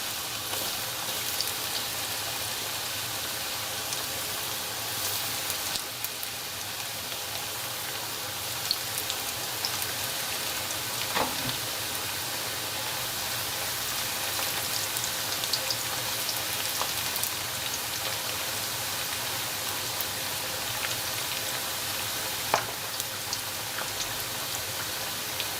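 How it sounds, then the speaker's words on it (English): Pieces of tempeh frying in hot oil give a steady, dense crackling sizzle with scattered pops, continuous and close throughout. "We're gonna wait until the oil is hot, and then in small batches at a time we're going to add some color to the tempeh."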